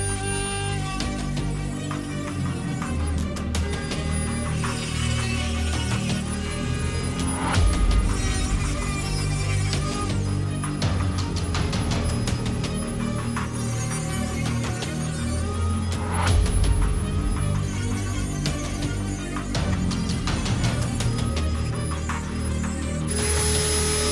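Cutting the cold hammer forged barrel of an Arsenal SLR-104UR AK-74 rifle at home, a loud, continuous harsh mechanical grinding and rasping that holds steady for over twenty seconds with brief surges, with no talk.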